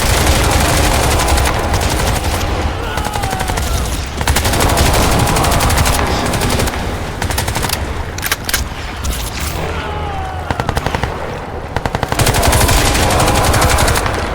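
Dense, continuous automatic gunfire and bursts of shooting with booms in the video game Crysis 2 Remastered, loud and sustained throughout with brief gaps.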